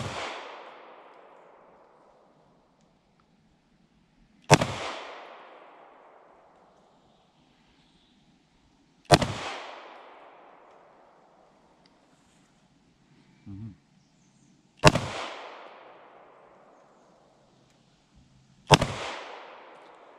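Five loud shots fire one by one at a shooting range, spaced about four to five seconds apart. Each sharp crack is followed by a long, fading reverberation, with a faint thud between the third and fourth shots.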